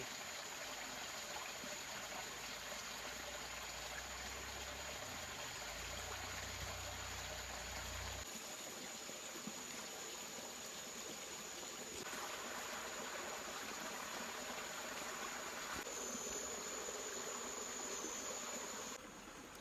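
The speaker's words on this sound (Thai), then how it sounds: "ได้ยินเสียงน้ำไหล" Continuous hiss of flowing stream water, steady and moderately distant, with a faint hum in the background and no voices.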